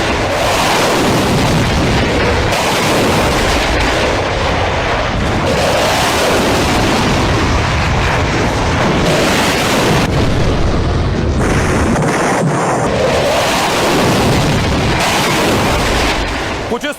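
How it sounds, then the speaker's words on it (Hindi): A Rafale fighter jet firing missiles, with continuous loud, roaring blasts and explosions that stay dense for the whole stretch and carry faint voices underneath. "कुछ इस तरह रफाल ने मिसाइल फायर की"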